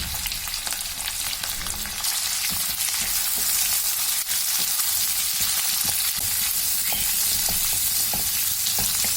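Onion, curry leaves and green chili fry in a pan for potato saagu, a loud, dense, continuous sizzle with faint stirring scrapes scattered throughout.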